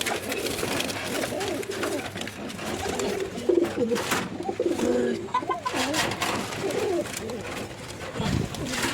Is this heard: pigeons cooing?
yes